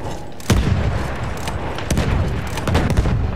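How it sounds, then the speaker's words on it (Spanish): Dynamite charges going off in the video game Battlefield 1: three sharp, heavy booms spaced about a second apart, loud and close, over a dense rumbling battlefield bed. "Hemos puesto cuatro cargas de dinamita."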